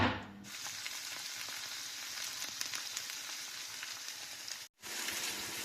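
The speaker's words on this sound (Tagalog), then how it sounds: "While the tofu is still frying" Sliced tofu fries in oil in a pan, giving a continuous bright sizzle and crackle that fills the whole stretch, dropping out briefly near the end before resuming, with no voices.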